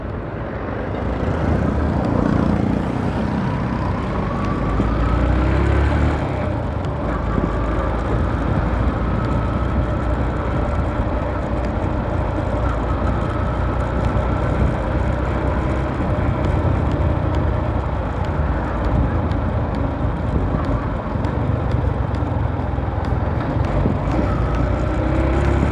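A jeep driving along a hilly rural road between barangays, its engine drone steady and fairly loud throughout, with rising and falling shifts in pitch as it changes speed, plus road rumble and wind noise.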